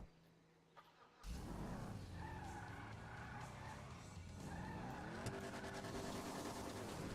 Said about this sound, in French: Voilà, on prend la voiture.